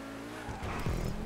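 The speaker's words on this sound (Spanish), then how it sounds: "Vamos a ver cómo hacen los derrapes." A car drifts in GTA Online, its engine droning as tires squeal in a rising skid, loud and close for about a second.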